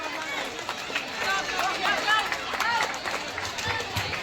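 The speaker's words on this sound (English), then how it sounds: "please give a huge round of applause for our Lata" An audience at a Teacher's Day event at Arunoday Senior Secondary School in Hojai applauds a teacher coming on stage, a dense steady patter of clapping mixed with crowd chatter and excited voices.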